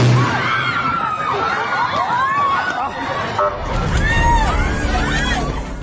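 A crowd shouting and screaming in a Davao City street during a magnitude 7.4 earthquake, with dense, loud babble and rising cries, while power pole transformers explode with heavy bangs underneath.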